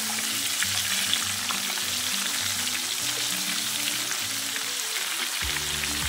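Pieces of tempe fry in hot oil with a constant close sizzle and crackle. Faint low kitchen hum sits underneath, and no one speaks.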